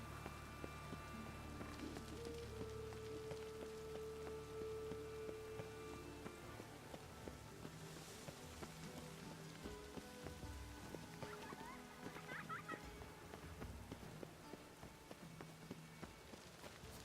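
Rain falling in The Witcher 3 video game, a quiet constant hiss and patter of drops on surfaces, with occasional faint footsteps and small ambient noises over it.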